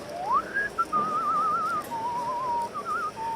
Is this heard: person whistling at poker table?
yes